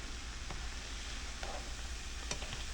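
Carrot and onion frying in a pan, a quiet steady sizzle with a few soft scrapes of a spoon stirring across the bottom.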